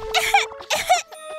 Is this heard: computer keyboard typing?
no